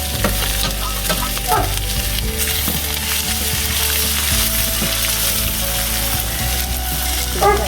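Sliced onion, ginger and green chilli sizzle loudly in hot oil with popped mustard seeds for a raw-rice uppumavu, a continuous close crackle broken by the scrape and clatter of stirring.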